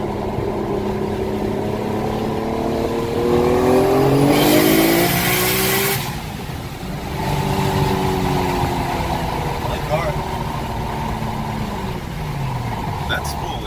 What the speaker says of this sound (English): That external gate is loud.